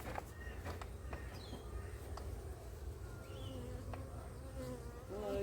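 Honeybees buzz around an opened flow frame hive, a steady close drone with individual bees zipping past the microphone, faint outdoor ambience behind.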